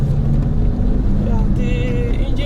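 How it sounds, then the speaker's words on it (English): A Peugeot 607 V6 with manual gearbox drones steadily from inside the cabin while driving, a low continuous engine and road rumble with faint tones on top; no talking. "the engine power is there"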